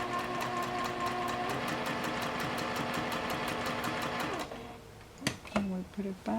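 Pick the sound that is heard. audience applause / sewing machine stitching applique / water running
sewing machine stitching applique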